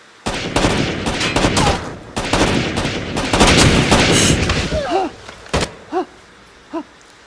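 Loud, rapid bursts of gunfire from the Rainbow Six Vegas 2 video game crackle through the first five seconds. A few sparse single shots with ringing tails follow and then fade.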